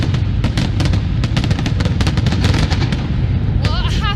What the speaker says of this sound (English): Saskia, I can hear the fireworks crackling away in the background.